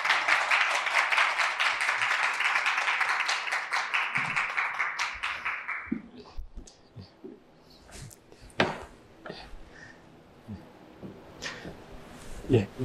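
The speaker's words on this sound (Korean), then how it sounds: "조영엽 박사님, 큰 박수로 환영해 주시면 감사하겠습니다" An audience in a lecture hall applauds to welcome an elderly lecturer, dense clapping for about six seconds that quickly fades into scattered taps, knocks and faint room noise.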